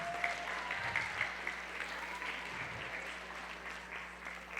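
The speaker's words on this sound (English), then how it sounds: "Give a round of applause for yourself" Audience applause at a Black History Month celebration on a talk show, a steady moderate clapping from a room of people that carries on evenly throughout, with a faint voice underneath.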